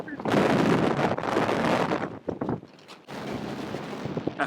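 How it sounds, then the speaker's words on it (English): Strong wind buffets a rider on a Spyder three-wheel motorcycle, loud gusty rumbling against the microphone and helmet that rises and falls across the clip, easing briefly near the middle. "That is a lot of wind."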